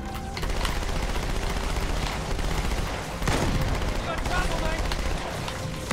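Automatic SMG fire from Master Chief in Halo 2, sustained rapid bursts amid game explosions and action, dense and loud throughout, with talk over it.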